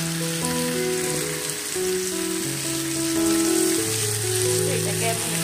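Curry spices with ground garam masala sizzle and fry in a pan for a rohu fish dish, a steady close crackle like light rain, with music playing over it.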